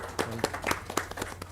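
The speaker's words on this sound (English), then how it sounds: "Please give a big round of applause for all the three films." Scattered, fairly quiet clapping from a small audience at a film festival panel on Indian Panorama films, with individual hand claps distinct rather than a full roar.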